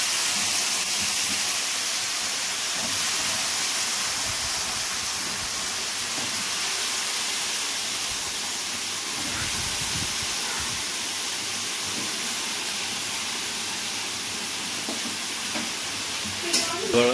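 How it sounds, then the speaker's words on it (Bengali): Potatoes frying in hot oil in a pan make a continuous broad hiss and sizzle that holds steady and close. A few stirring knocks come near the end, with a voice talking underneath. "প্রথমে তেল গরম হওয়ার পর এই যে আলুটাকে প্রথমে তেলে দেওয়া হচ্ছে"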